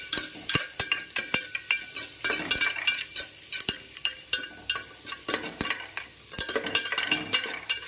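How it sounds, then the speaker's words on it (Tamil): Dried red chillies and curry leaves are stirred in hot oil in a pan for a Tamil tamarind curry, giving a steady sizzle broken by repeated sharp scrapes and taps of the spatula against the pan. "அப்புறம் இந்த வரமிளகா கருவேப்பிலை எடுத்து போட்டுருங்க வடக்கா போட்டதுக்கு அப்புறம் இதெல்லாம் வள வதக்கணும் நல்லா வதக்கணும்"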